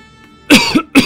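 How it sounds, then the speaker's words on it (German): Two sharp, close coughs, a longer one followed shortly by a second, loud against near silence. "Ein bisschen Husten."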